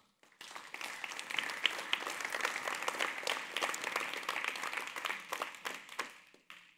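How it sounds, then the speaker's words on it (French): Audience applause for the sponsors at a talk event, with steady, fairly faint clapping from a crowd that rises quickly and holds for several seconds before stopping. "je tiens particulièrement à ce qu'on les applaudisse tous maintenant"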